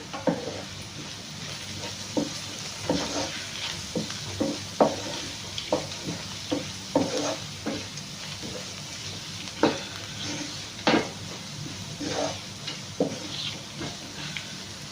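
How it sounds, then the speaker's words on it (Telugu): Leafy greens being stirred and mixed with fried egg, salt and turmeric in a hot pan, a steady sizzle broken by repeated scraping strokes of a spoon, close and alone without talk. "ఇప్పుడు మనం మిక్స్ చేసుకుందాము"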